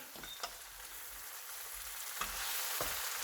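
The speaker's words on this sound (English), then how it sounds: "should hear this sizzle as well. Yeah, aubergine and courgette." Sliced aubergine and courgette sizzle steadily in a frying pan with a soft continuous hiss, and a few faint clinks of stirring break through. No one speaks.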